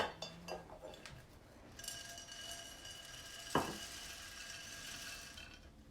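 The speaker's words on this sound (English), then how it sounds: "I'm gonna go ahead and mix all this together." A utensil clinks against a dish while ingredients are mixed for a plant-based Easter dinner: scattered light scraping and tapping, with one sharper knock partway through, all fairly quiet with no talking.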